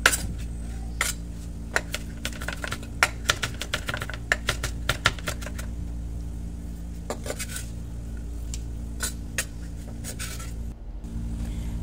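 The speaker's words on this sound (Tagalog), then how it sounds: "Tadtarin natin siya ng pino." A knife finely chops banana blossom for a patty on a board, making quick, irregular sharp taps in close bursts over a steady low hum.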